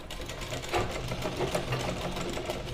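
Sewing machine stitching salwar fabric in a tailoring lesson, a steady continuous whirring run of needle strokes throughout at moderate level, with no talk.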